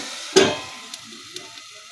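Pointed gourd (potol) pieces hit hot oil in a pan with a loud burst, then a soft sizzle trails off, broken by a few faint clicks from stirring.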